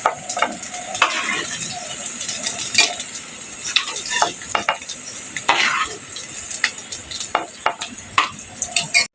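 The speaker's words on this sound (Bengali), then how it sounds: "এখন আমি আলুটাকে ভালো করে ভেজে নেব।" Potato pieces fry in hot oil with salt and turmeric, a continuous sizzle broken by repeated sharp scrapes and clacks of a utensil stirring against the pan, close and fairly loud.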